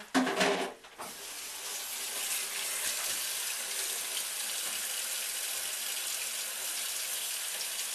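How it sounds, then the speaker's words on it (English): A brief clatter, then water runs steadily from a tap in a continuous hissing stream, close and fairly soft, with no voices. "I'm not going to be able to hear over that water."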